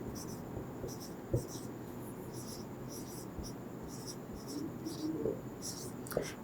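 Chalk or marker writing on a board during a class lesson, with repeated short scratchy strokes in bursts over a steady low background hum, with faint whispery voice traces.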